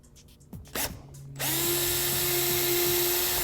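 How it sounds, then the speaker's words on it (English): After a few short clicks and bursts, a power drill with a 1/8 inch bit spins up and whirs steadily and loudly, boring a pilot hole in one continuous run. "First, I'm going to use a 1/8 inch drill bit and go through the center."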